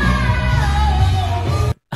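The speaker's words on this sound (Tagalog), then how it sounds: "That's just a straight up screaming" A loud, sustained, raw scream from a singer mid-performance, harsh and strained, holding for well over a second before cutting off abruptly into silence, then a brief return of sound.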